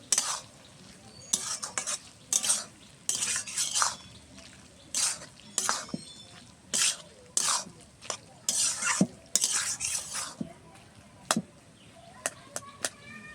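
Ash gourd and fried prawn ghonto stirred in a pan: repeated bursts of spatula scraping and clatter against metal over a faint sizzle, close and irregular, with brief pauses between strokes.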